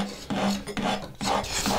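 A hand file rasping across a wooden letter opener, four rhythmic strokes, close and clear with no talking.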